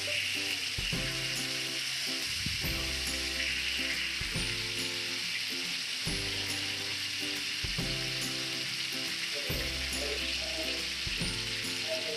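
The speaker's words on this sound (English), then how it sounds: "pour about 5 to 6 tablespoon oil in a pan and add the marinated chicken pieces" Marinated chicken pieces sizzling and crackling in hot oil in a pan, a constant bright hiss with occasional clanks and scraping from stirring.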